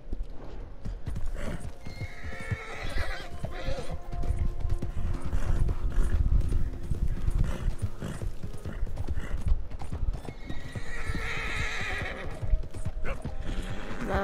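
Steady clip-clop of hooves runs throughout, with a horse whinnying loudly a few times over a busy, rumbling backdrop, in Red Dead Redemption 2.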